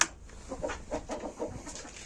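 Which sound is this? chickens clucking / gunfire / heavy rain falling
chickens clucking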